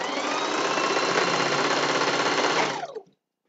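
A sewing machine stitches a seam in fleece fabric. It runs as one steady, close, loud mechanical whir for nearly three seconds, then stops abruptly and leaves silence.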